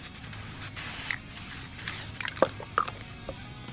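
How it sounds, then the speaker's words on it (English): Spray paint hisses in long and short bursts over dish soap on a guitar body under a small cover, close up, with a few small wet squishes and clicks between bursts. "So I got a little cover on the Z, put some dish soap on, started spraying it."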